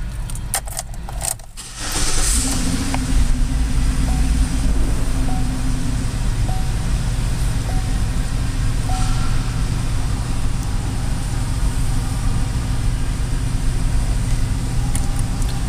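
A 2009 Pontiac Torrent with a 3.4 liter V6 engine cranks briefly and catches, then settles into a steady, loud, close idle hum that runs on unbroken, with a few faint clicks early on and no talking.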